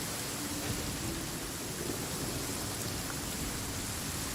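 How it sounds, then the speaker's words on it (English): Steady heavy rain pours in Genshin Impact, a dense unbroken hiss with low rumbling thunder rolling underneath throughout. "Rain."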